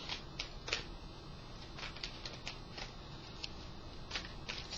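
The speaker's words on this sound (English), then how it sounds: "these I'm going to shuffle right here" Tarot cards being shuffled by hand for a spiritual reading, giving a steady run of soft papery riffles and flicks at close range, with no talk over it.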